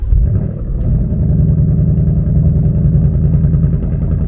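A 2024 Ford Mustang GT V8 with active exhaust drives along, its loud steady low rumble filling the cabin continuously without pause.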